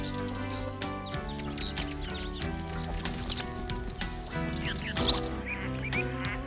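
Birds give rapid, high-pitched alarm calls, repeated chirps in quick bursts that grow louder and denser midway, over a background of layered tonal sounds.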